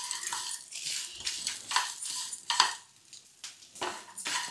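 Garlic, salt and moringa leaves are stirred in a pan for a chutney, giving a run of close scraping and clinking strokes with a soft sizzle, irregular in rhythm and without talk.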